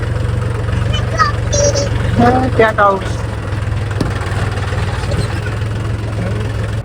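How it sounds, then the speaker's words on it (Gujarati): A tractor engine idles close by on a village farm, a steady low chugging rumble running throughout while people briefly talk over it. "તો મિત્રો આપણે ટ્રેક્ટરનું ચક્કર લગાવીને આવી ગયા છીએ ઘરે."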